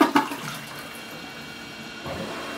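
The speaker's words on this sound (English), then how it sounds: "it's gonna flush itself" A Kohler Jaro bidet toilet flushes itself automatically, opening with a short rushing surge of water close by that settles into a steady trickle of the bowl refilling, with no talk.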